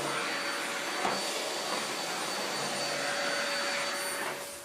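A Vax C85-P4-Pe cylinder vacuum cleaner runs steadily with a loud, even roar and a faint high whine, tailing off slightly at the end.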